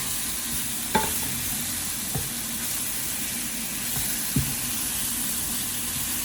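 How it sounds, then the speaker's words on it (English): Cauliflower stir-fries in a hot pan with a continuous, even sizzle, broken by a few light clinks and scrapes of a utensil stirring, close up and without voices. "Stir in until the vegetable is softened."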